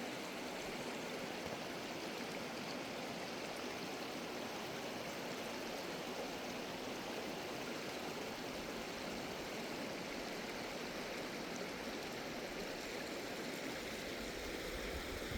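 Jenny Creek runs steadily beneath a bridge, a broad, continuous rushing wash of flowing water heard up close with no pauses and no voices over it.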